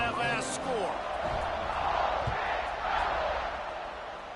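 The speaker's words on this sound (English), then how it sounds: "this crowd is buzzing after that last score" Football stadium crowd at a Tennessee Volunteers game buzzing after a touchdown: a broad, steady roar of many voices filling the stands, loud and continuous, swelling slightly midway, with a few nearby voices and thumps on top.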